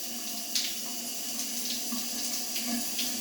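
Hot water runs from a tap into a sink as a steady, quiet splashing stream, with faint clinks and small bursts over the continuous flow and no voices.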